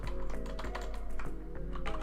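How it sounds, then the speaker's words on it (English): Keys clatter steadily on a computer keyboard while text is entered into Adobe After Effects, a close run of quick taps over a low constant hum. "I'm going to type in"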